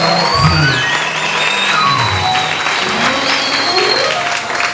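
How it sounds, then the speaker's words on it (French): Congregation applauding steadily during a French-language church worship service, a dense continuous wash of clapping at even loudness throughout, with voices and singing blended underneath. "Nous acclamons le Seigneur."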